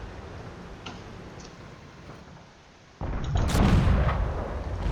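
A T29 tank's gun fires in a video game: a sudden loud blast cuts in after a low engine rumble, followed by a sustained roaring wash of noise.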